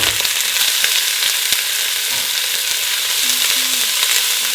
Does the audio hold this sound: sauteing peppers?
yes